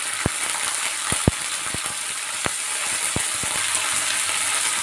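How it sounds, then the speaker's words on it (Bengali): Vegetables frying in a pan of hot oil with a bay leaf and dried red chillies, giving a steady hiss and sizzle broken by sharp, scattered pops and spatula clicks. "এবার ভালো করে সবজিটা ভেজে নেব"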